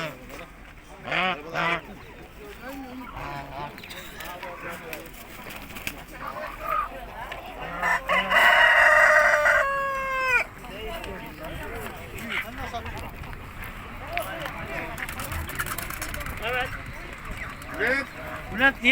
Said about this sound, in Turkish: Bunlar küçük ispenç tavuğu derler bana.